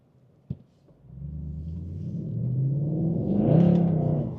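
Engine of a Mercedes C63 Black Series replica revving up through the gears in manual mode, a low rumble building steadily and rising in pitch to a loud, strained peak, heard from inside the car with no talk.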